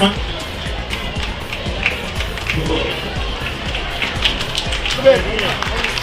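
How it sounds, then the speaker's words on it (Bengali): Audience at the Singur fair clapping in a crowd, scattered claps mixed with crowd noise and a voice talking over them, moderately loud and uneven. "জোরে হাততালি জোরে হাততালি"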